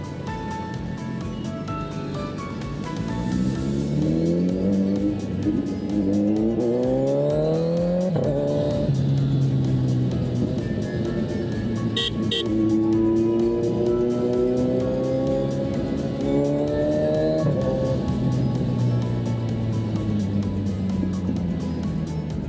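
Cars moving through congested traffic at a bottleneck, engines droning steadily and rising in pitch as vehicles accelerate, with a continuous loud road rumble and no voices.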